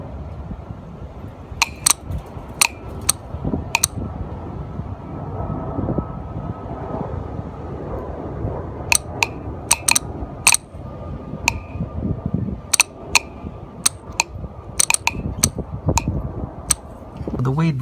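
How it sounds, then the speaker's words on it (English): Sharp, isolated clicks from an EVAP vent solenoid valve on a 2005-2011 Hyundai/Kia, coming in irregular clusters over a low background hum, with occasional muffled handling noise. "So you guys can clearly hear the click."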